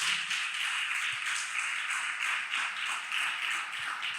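A church congregation claps hands together in praise to the Lord, dense steady applause-like clapping that fills the room continuously without talk.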